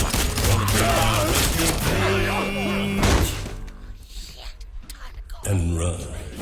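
Bursts of gunfire from a Prey 2 game trailer, loud and dense, packed with sharp thuds and crashes under a score and shouting, easing midway before a fresh surge near the end.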